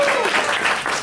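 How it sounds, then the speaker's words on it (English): An audience applauds during a Q&A with a voice actor, a brief burst of clapping that is fairly loud, with some voice mixed in. "I guess I should wait for applause breaks"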